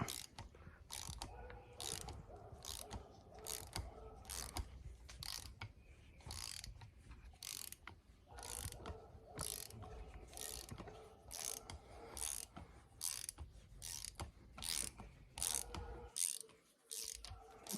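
Repeated ratcheting clicks from a socket wrench backing a bolt out of a Maxum boat engine during an LS 5.3 swap, steady rhythmic bursts up close with brief pauses, no talking.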